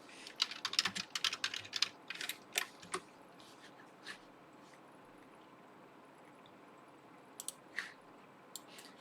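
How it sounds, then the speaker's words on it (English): Quiet clicking on a computer keyboard, a quick flurry of keystrokes at first that thins into scattered taps, close but faint, with no talk. "now I'm afraid if I start typing"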